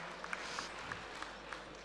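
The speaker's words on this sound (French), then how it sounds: "Donc vous pouvez applaudir, c'est vraiment remarquable." An audience at a national cattle show in Fougères claps faintly and steadily, a scattered round of applause heard from a distance in a large hall.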